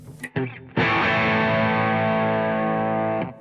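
Electric guitar through a Victory RD1 amp: a few short muted picks, then one sustained distorted chord ringing for about two and a half seconds before it is cut off.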